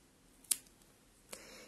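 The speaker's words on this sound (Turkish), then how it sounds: "Şimdi yine bej olan ipimi burada kesiyorum." Scissors snip through beige yarn while making a child's knitted hat, two faint, crisp cuts about a second apart against a quiet background.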